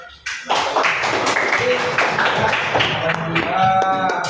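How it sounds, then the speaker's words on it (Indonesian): A classroom breaks into applause, with a burst of many hands clapping at close range that carries on steadily for several seconds amid chatter from the students. "Berikan aplaus terlebih dahulu"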